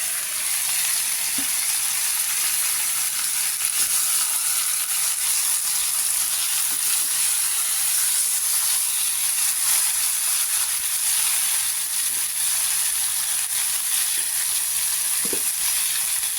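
Chicken frying in a pan for Bengali chicken kosha, a loud continuous hiss and sizzle held steady throughout with a few faint clinks, close up and without talk.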